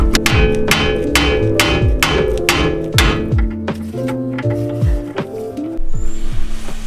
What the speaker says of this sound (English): This hammer did it.